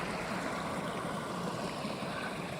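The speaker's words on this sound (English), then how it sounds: "Running water," Running water of a mountain stream beside a trail campsite rushes in a steady, loud, unbroken wash, close by and alone without any talk.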